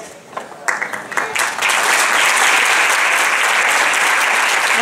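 Audience applause in a theatre after a song performance, starting with a few scattered claps and swelling within two seconds into loud, sustained, dense clapping from the crowd.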